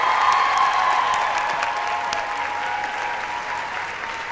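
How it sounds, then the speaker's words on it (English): Steady applause from an audience at a dual enrollment recognition ceremony honoring early college scholars, a dense wash of clapping that holds for several seconds and gently fades toward the end. "A round of applause for our early college scholars."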